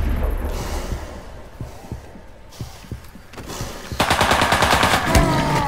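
Video game gunfire in rapid automatic bursts, loud and close, growing denser toward the end with clattering shots over faint background noise.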